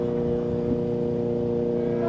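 An MV Agusta F4 1000 motorcycle engine runs at a steady high idle, a loud, close, continuous mechanical drone with a strong even tone and no talking.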